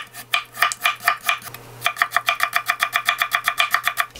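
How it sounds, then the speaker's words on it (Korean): A knife cuts carrots into fine julienne strips on a cutting board, giving a quick, even run of sharp chopping taps. There is a short pause, then the strokes speed up into a fast regular rhythm, close and clear. "그리고 당근도 채 좀 썰어줄게요."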